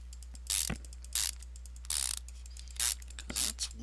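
Mechanical ratcheting clicks from assembling car brake parts in Car Mechanic Simulator 2015, on a Maluch getting a new brake pump: about five short, bright bursts spaced roughly evenly, each sharp and close, with low hum between.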